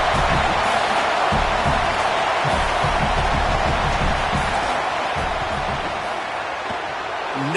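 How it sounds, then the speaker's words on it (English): A football stadium crowd roars during a Canes vs Hoosiers field goal attempt, a loud, dense wall of sustained noise filling the whole stretch, easing slightly near the end. "This crowd trying to do its part to get inside the kicker's head"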